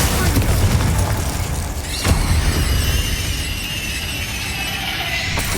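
A Glacius freezing spell is cast in the Hogwarts Legacy video game. A sharp crackling burst lands midway through, over a constant loud rumble of game ambience and music.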